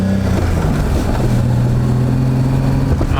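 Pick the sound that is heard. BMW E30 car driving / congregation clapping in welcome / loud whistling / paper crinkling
BMW E30 car driving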